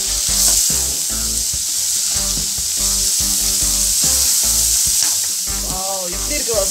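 Paneer and masala sizzle steadily while being stirred and fried in a pan, a constant hiss running under loud background music throughout.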